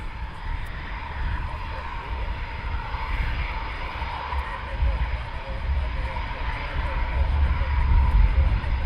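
Military aircraft taxi at RAF Coningsby, a steady engine roar from a distance that slowly swells louder, with people chatting quietly over it.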